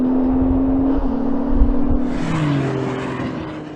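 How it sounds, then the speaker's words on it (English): A Porsche 911 Turbo S launches hard from a standstill, its loud engine note rising steadily and climbing again after a quick shift, close and dominant with no talking. "Oh, this thing, every time you're launching it, it is so brutal."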